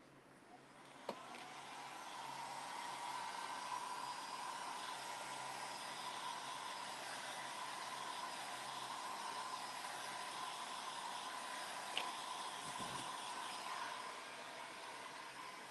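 A hair dryer drying craft pieces runs as a steady, soft whirring hum that holds constant for several seconds.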